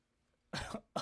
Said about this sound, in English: She drank water and then she was coughing